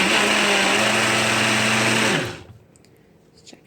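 An electric mixer beats raw milk cream into butter, whirring loud and steady for about two seconds before winding down and cutting off, leaving faint clinks.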